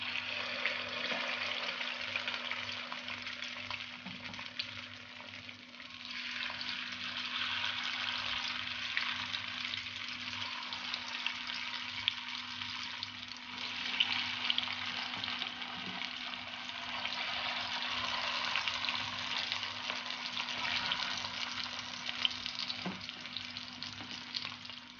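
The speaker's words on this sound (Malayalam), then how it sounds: "നമുക്കിനി ഇതിലേക്ക് ഓരോ പീസ് വീതം അത് ഇട്ട് കൊടുക്കാം" Chicken pieces fry Kerala style in hot oil in a pan, giving a steady, close sizzle and crackle that runs the whole time with a low hum beneath and no voices.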